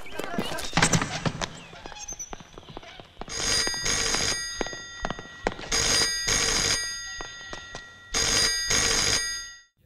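A telephone rings in an office during a tense film scene, repeating ring bursts standing out over a busy background of footsteps and bustle, loud and close.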